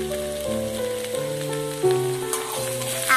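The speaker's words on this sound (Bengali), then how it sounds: "আদাটাকেও আলু কুমড়োর সাথে 2 মিনিটের জন্য ভেজে নেব।" Ginger paste frying with potato and pumpkin in a pan for a Bengali aloo kumro tarkari, a soft steady sizzle running underneath prominent tonal background music with no pauses.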